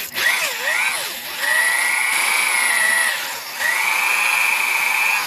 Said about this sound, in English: We ended up dulling the drill bit.